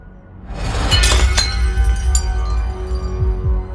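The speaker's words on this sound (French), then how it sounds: "Edward lâche subitement le plateau." A breakfast tray of dishes crashes to the floor, a loud close shatter of glass and crockery followed by a scattering clink of fragments, with no voices.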